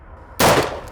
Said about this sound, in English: We're going to see what this looks like on the high speed. Deadair muzzle brake.